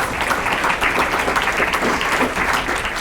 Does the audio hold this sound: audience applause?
yes